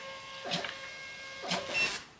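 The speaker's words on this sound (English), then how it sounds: "And I just stick it into my label maker, which is over here." Label maker sitting on top of a printer, printing a shipping label: two brief whirring feed bursts over a steady electronic hum, close and alone.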